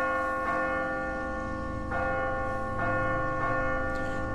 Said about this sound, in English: let's ring the bell anyway